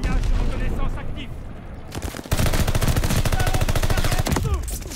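Automatic gunfire in Call of Duty Vanguard: rapid, loud bursts of shots, a first volley and then a longer sustained stream after a brief pause, with a voice talking over the action.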